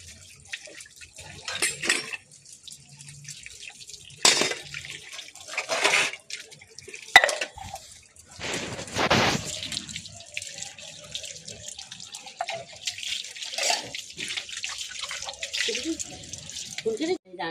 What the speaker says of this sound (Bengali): এই যে বাসন মেজে নিয়ে ধুয়ে নিচ্ছি